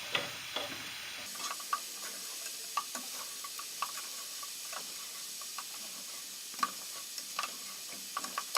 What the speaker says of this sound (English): Start stirring in your mashed potatoes.